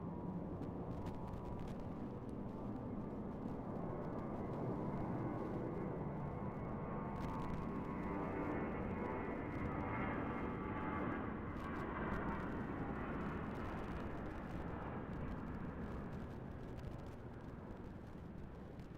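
A retro-livery airliner departs Raleigh Durham airport, its jet engine roar a steady, loud, broadband rumble that holds unbroken for the whole span with no voices over it.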